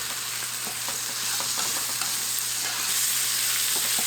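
Canned tomatoes with green chilies sizzling and frying in a pan for a Cajun casserole, a steady broadband hiss with a low constant hum and faint scattered crackles throughout.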